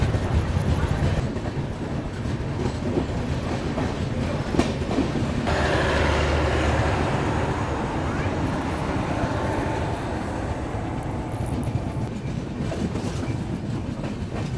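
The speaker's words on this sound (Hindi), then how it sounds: "अब जा कर के हमारी ट्रेन जो है वो अम्बाला रेलवे स्टेशन पहुंच रही है।" A Sarvodaya Express passenger train runs steadily on Indian rails between Rajpura and Ambala, a loud continuous rumble with rhythmic clickety-clack from the carriage, heard from on board.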